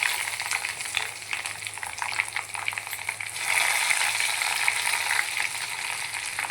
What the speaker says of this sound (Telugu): జీలకర్ర ఆవాలు వేసాను, వెల్లుల్లిపాయ కచ్చాపచ్చ, కరివేపాకు, ఎండుమిర్చి